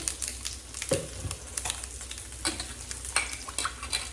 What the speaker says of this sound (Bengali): এখন দিয়ে দিচ্ছি আমি ফোড়নের জন্য কিছুটা রাঁধুনি আর কিছুটা কালো জিরে, দুটো একসঙ্গে মিক্স করে